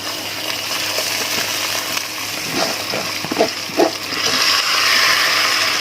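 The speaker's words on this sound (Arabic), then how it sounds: "واحمره شويه مع الشعريه لغايه لما ينشف خالص، ما يبقاش فيه ميه" Rice and vermicelli frying together in a pot as the last moisture cooks off, giving a steady sizzle with a few soft stirring scrapes near the end, and no voices.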